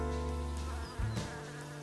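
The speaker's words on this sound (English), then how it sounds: "Most of the bees surrounding me, and there are plenty of them" Bees buzz around a garden full of flowers, a steady droning hum close by with several insects overlapping, one passing nearer partway through, no talking.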